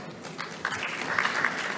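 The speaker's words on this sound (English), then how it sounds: "Yes, applause." Brief applause at a conference session, a short patter of clapping from a modest audience heard at moderate distance.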